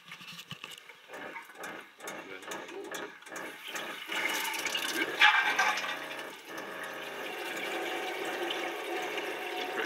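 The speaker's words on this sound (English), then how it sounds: "So I'll just turn the pump on" Water runs from a motorhome sink tap once the onboard water pump is switched on, a steady rushing flow with pulsing pump-like beats early on, fairly close and alone.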